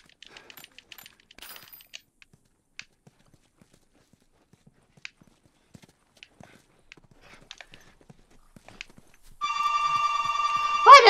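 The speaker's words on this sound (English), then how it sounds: "My phone keep ringing." A telephone rings in The Last of Us, a loud, steady burst of harmonic ringing that starts near the end, after a stretch of sparse, quiet taps and footstep-like clicks.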